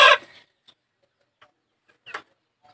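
Chickens in a backyard coop built from bamboo and old corrugated iron, giving a few short, sparse clucks at moderate distance after a brief louder sound at the start.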